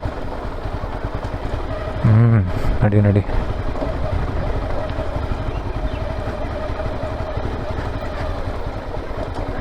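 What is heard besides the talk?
off-road motorcycle going downhill with engine braking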